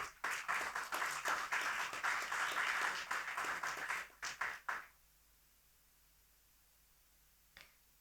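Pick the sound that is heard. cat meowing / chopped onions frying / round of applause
round of applause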